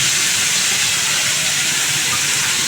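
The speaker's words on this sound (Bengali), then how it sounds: "পেঁয়াজটা ভাজা ভাজা হোক" Onion frying in a pan gives a loud, dense, continuous hiss of sizzling oil, steady and close throughout with no talking.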